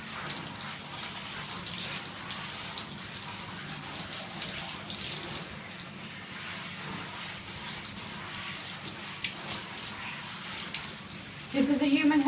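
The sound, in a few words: warm water running to soak hair extensions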